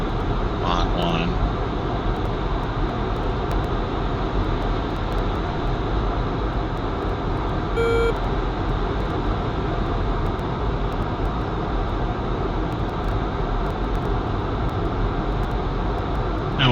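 F-14B Tomcat in the DCS flight simulator with afterburner engaged at low altitude, a loud, steady jet-engine roar holding constant throughout, with a brief tonal beep midway.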